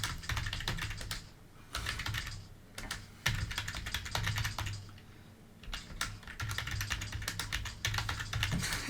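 Computer keyboard typing during a typing test, rapid close clicking keystrokes in uneven bursts with short pauses, no talking.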